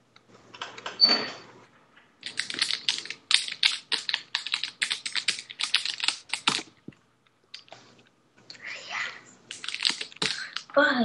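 Rapid clicking of keys on a computer keyboard in bursts of typing, fairly close, with brief pauses and a short stretch of speech near the start.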